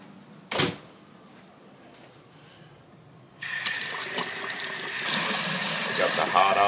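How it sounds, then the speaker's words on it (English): A laundry tub faucet is opened: after a sharp knock and a quiet pause, water bursts out with a steady splashing rush. The flow grows fuller and louder as both hot and cold run together. "We got the hot on, and we got the cold on."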